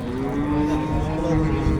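A cow at the Chust livestock market gives a long, loud, close moo with a sustained tonal bellow and a slight pitch rise partway through, against faint market murmur.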